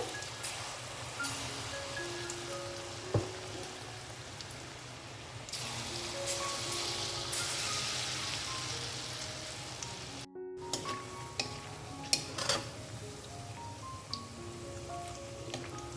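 Lentil fritters (dal bora) deep-frying in very hot oil, a steady close sizzle and crackle running throughout with a brief dropout near the middle; faint background tones but no talk.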